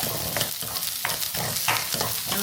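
Sliced onions frying in a pan at home, a steady close sizzle with rhythmic bursts of stirring roughly every half second, no talk.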